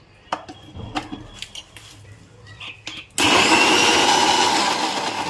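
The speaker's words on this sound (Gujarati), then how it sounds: "હવે આને કરી લઈશું આપણે બ્લેન્ડ" Boiled tomatoes get blended: a few light clinks and handling noises, then a loud, steady blender whir starts suddenly and runs to the end.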